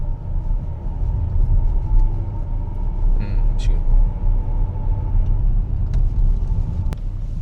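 A steady mid-pitched whine from a worn differential bearing rides over loud low road rumble inside a moving Range Rover SDV8, with a few brief clicks and a voice murmuring briefly.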